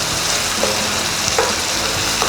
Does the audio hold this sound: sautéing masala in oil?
yes